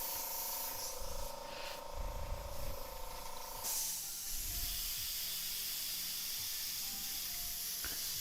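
An airbrush spraying orange paint onto a T-shirt, a steady hiss that keeps going under a low background hum, then stops and leaves a quieter, even airy noise behind, close and constant with no speech.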